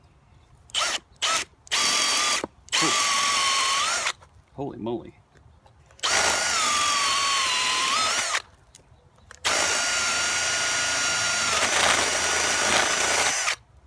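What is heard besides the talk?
power drill in fast mode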